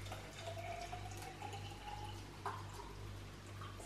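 Cold rosehip tea poured into a drink, a soft continuous trickle of liquid at moderate distance over a steady low hum, with no speech.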